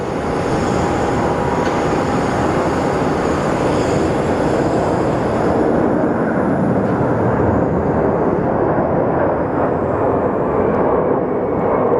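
Airliner departing Sky Harbor airport, a loud, steady jet roar that fills the whole stretch, broad and rumbling, with the high hiss easing slightly toward the end as it climbs away.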